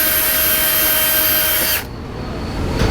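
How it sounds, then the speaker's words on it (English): A power drill boring a pilot hole in the dash of a 2017 Freightliner motorhome, a steady high motor whine running close and loud before it cuts off abruptly, leaving quieter background noise. "Let's start with a pilot hole, and then I'll drill it out to the size indicated in the instructions."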